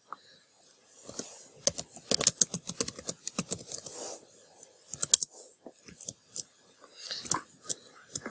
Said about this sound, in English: I'm gonna just type a period in the chat